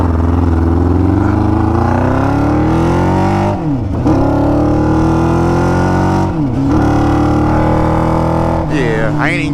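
A 600cc go-kart engine revving hard on the move, its loud whining tone rising in pitch, dropping sharply twice as the throttle eases, then climbing again, close and continuous.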